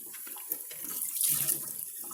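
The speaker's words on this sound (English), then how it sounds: "the water is going so fast through there that it's just going down one side and on up the other and out the front" Water rushes from a patched ice machine on a Frigidaire FGHS2631PF3 refrigerator, a steady close splashing flow with a faucet-like hiss that keeps running throughout.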